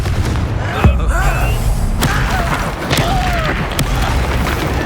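Spell explosions in the Hogwarts Legacy video game, several sharp booming blasts and bursts over a dense roar of combat effects, loud and close, with shouted spell incantations between them.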